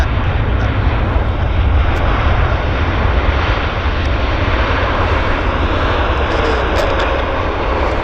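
A jet airliner landing at Vancouver International Airport gives off a loud, steady engine roar with a deep low rumble that holds unbroken for the whole stretch, close by and with no voices over it.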